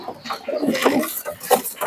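A Giribaj pigeon held at a seller's place gives short soft coos and throaty calls in a few uneven bursts, close and moderately loud.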